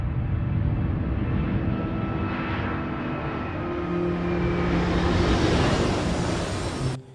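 A fixed-wing airplane leaves an isolated base, its engine a loud, continuous roar with a steady hum that holds for about seven seconds before cutting off abruptly.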